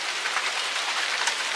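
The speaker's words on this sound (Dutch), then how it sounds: "Het begint hier nu helemaal te regenen." Heavy rain pours steadily during a thunderstorm on a balcony, a dense, even hiss of drops close by with no voices.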